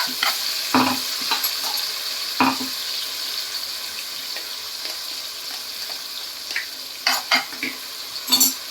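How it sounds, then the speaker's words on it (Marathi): Green masala paste sautéing in a pan with cumin, a steady close sizzle broken by scraping spoon strokes and occasional clinks of the utensil against the pan. "हे आपण छान परतून घेणार आहोत."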